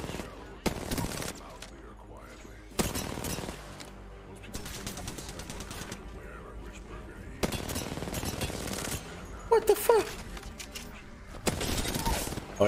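R9 rifle fire in the shooter game Apex Legends comes in repeated loud bursts of rapid shots separated by quieter stretches, with a voice talking over the action.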